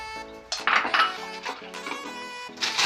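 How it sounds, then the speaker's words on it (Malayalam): Dry macaroni pasta tipped into a pot of boiling water gives a brief metallic clatter and rattle against the pot, with soft music playing behind it. "അത് നന്നായി തിളച്ചു. അപ്പോൾ ഞാൻ പാസ്ത അതിലിടാം"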